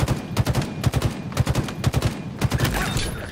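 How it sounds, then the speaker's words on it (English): Bursts of gunfire ring out from a slow-firing gun in Halo Infinite multiplayer on the Bazaar map, a series of loud, evenly spaced shots in quick clusters with no talking over them. "That gun's slow as hell, I will tell you that."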